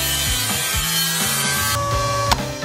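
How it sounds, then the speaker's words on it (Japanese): A protruding bolt on a homemade portable submersible pump being cut off, a steady loud grinding, rasping cut that runs continuously with slight shifts in pitch. "飛び出てるボルトは切った方がいいよね。"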